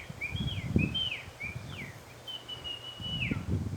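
A man whistles an imitation of a Smith's Longspur call, several rising and falling high whistled phrases outdoors, fairly faint over low rustling and handling noise.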